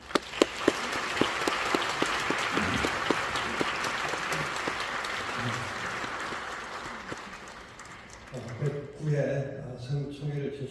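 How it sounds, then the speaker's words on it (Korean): Sustained audience applause fills a church hall during a denomination's 109th general assembly as a guest pastor comes forward, steady dense clapping for about eight seconds before it thins out and a voice begins over the fading hands. "나오실 때 큰 박수로 환영해 주시면 감사하겠습니다"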